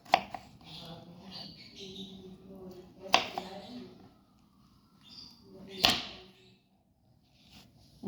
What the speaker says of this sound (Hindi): बाँस को इस तरह काट सकते हैं।